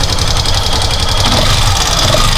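Yamaha Factor 150 motorcycle idling with a loud, rapid mechanical knocking from the engine, a continuous close-up rattle over a steady low hum.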